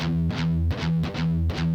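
Heavily distorted electric guitar chugs steady open pedal tones in a driving riff, with a few accented chord changes cutting through; loud, close and continuous with no talking.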